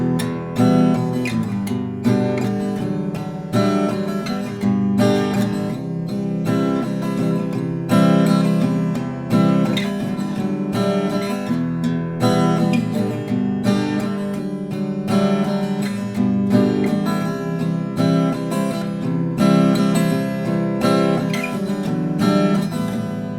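Acoustic guitar strumming a chord progression at standard tempo, steady rhythmic strums repeating through two full rounds, close and clear with no talking.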